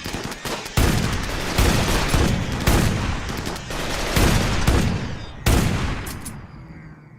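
A big gun fires in RimWorld combat, pounding out loud, repeated volleys in bursts roughly a second apart, each with a rumbling tail and no voices over it.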